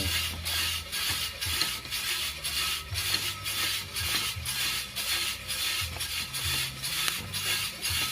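Rapid rattling and scraping of coffee beans tumbling in a hand-crank roaster, rhythmic and steady, with faint cracking pops scattered through the continuous churning noise.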